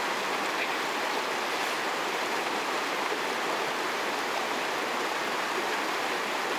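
An icy mountain river in Khakassia near glaciers rushes with a steady, broadband roar of flowing water that stays even and unbroken throughout.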